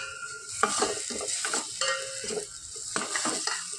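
Green chillies and crushed peanut powder frying in hot oil, a continuous sizzle with frequent close scraping stirs of a spoon against the pan.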